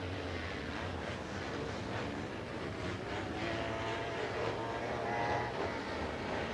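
Racing sidecar outfits from a 1984 AMCA round of the IMBA championship roar continuously at full throttle, a dense, steady engine drone with no pauses for the whole stretch.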